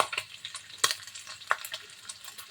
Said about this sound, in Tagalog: Konting oil para may gisa natin yung bawang at saka sibuyas.